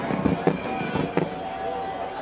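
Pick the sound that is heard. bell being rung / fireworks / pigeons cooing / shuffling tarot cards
fireworks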